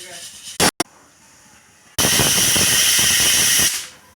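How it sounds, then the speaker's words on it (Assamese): A pressure cooker holding bhedai lota curry lets out a few short bursts, then a loud, sustained hiss of escaping steam that lasts nearly two seconds before cutting off. "মই 4-5টা হুইচেল মাৰিবলৈ দিম।"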